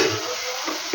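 A tomato and onion paste frying in oil, a continuous soft sizzle with a few brief stirring scrapes near the start and end, close and steady, without speech.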